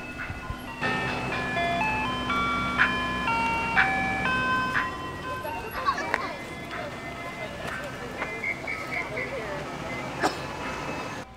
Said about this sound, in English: All right, there's this ice cream truck.